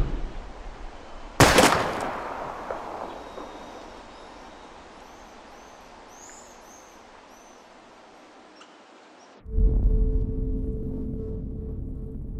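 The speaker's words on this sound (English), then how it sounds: "We're gonna shoot all these bottles without wasting a single bullet." A single sharp gunshot from a pistol in the video game Life is Strange, fired at bottles in a junkyard, loud and close, its ringing decay fading over several seconds before a low steady hum sets in.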